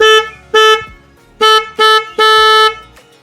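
A loud, close Tata Nano car horn honks five times in uneven blasts, the last one held longer than the rest.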